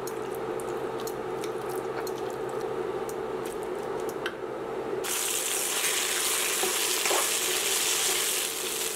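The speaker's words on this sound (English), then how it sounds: "So my wok here is nice and hot, and I've just added 2 tablespoons of olive oil in it. And to this I'm going to add in my marinated shrimp." Marinated shrimp hit hot olive oil in a wok. A steady sizzle suddenly swells halfway through into a louder, hissing crackle of frying that carries on continuously, with no voices.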